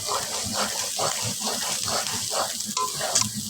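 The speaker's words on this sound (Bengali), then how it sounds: "আমি কিন্তু এখনও অনবরত নেড়ে চেড়ে মশলাটা কষিয়ে নিচ্ছি" Masala spices for chicken korma are fried in oil and stirred constantly, a steady close sizzle with rhythmic scraping pulses from a spoon roughly every half second.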